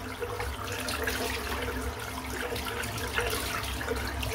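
A silvertip shaving brush is rinsed under running water, a steady close hiss and splash that keeps going without a break and with no voices.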